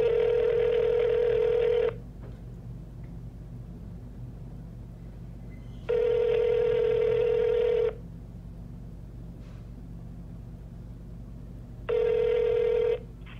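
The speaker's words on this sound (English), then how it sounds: "I called back a second time, knowing he wouldn't answer, and that the call would go to voicemail" Telephone ringback tone on a call to a man's phone that goes unanswered, three separate two-second rings spaced evenly over a faint steady line hiss, with no talking.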